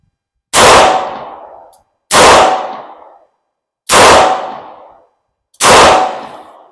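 Four loud, sharp gunshots from a stainless steel Smith & Wesson Model 60 .357 snub-nose revolver with trigger work, fired at a range roughly every one and a half seconds, each followed by a ringing decay.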